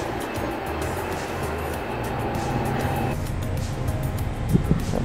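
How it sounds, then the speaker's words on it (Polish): Steady low engine rumble and road noise from inside a moving double-decker bus in Singapore, with a constant drone and a few faint knocks near the end, no talking. "Siedzimy w piętrowym autobusie jak w UK."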